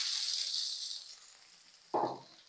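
Mustard seeds, cumin, curry leaves and onion frying in a little hot oil, with a steady bright hiss that eases slightly before a sudden louder sizzle bursts in near the end.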